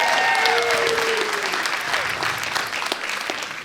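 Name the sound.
audience applause for an audience member at a comedy show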